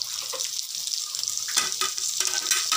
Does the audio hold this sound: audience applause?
no